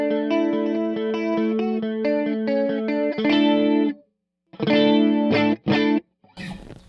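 Clean electric guitar chords and arpeggios played through a Dimension-style chorus effect on a Fractal FM9 processor, shimmering and wide, with a brief gap and a few final strums, close and prominent.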